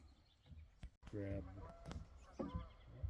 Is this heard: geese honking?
yes